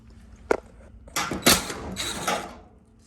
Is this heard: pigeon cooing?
no